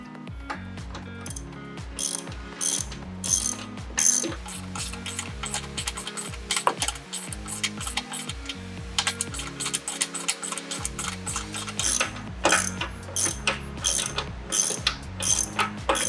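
A ratchet fitted with a 1 1/4 socket cranks down a Dobinsons rear bumper part on a 70 Series Land Cruiser Prado, giving close, loud bursts of rapid rhythmic clicking with brief pauses between strokes.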